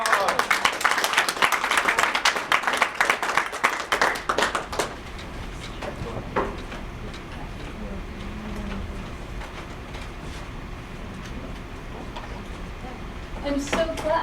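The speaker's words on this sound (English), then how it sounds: "Great big round of applause" Loud crowd applause and clapping fill the first few seconds, then fade into quieter room noise with scattered claps returning briefly at the end.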